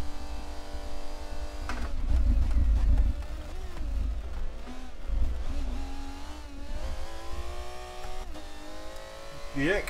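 A race car in Forza Motorsport 7 drives hard, with a steady loud engine drone that rises and falls through gear changes and revs, and some tire noise, under someone talking.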